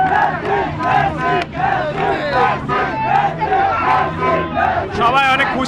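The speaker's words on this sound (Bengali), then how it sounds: "আর্জেন্টাইন সমর্থকরা সকলে অনেক খুশি এবং তারা কিন্তু মেসি মেসি বলে স্লোগান দিচ্ছে" Argentina football supporters celebrating a victory at TSC chant Messi's name in loud, rhythmic unison, a dense, close crowd roar of voices and cheering that continues without a break.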